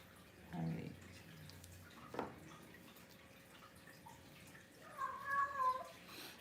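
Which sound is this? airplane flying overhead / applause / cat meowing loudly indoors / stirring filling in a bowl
cat meowing loudly indoors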